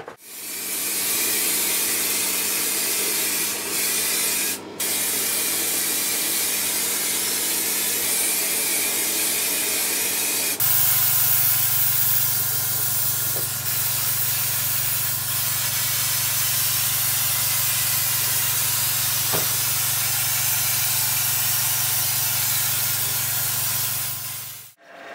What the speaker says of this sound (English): we're going to throw a bit of gold paint at it out of a rattle can